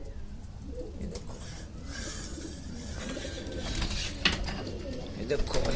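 Pigeons coo softly against a noisy outdoor background, with someone talking over them throughout.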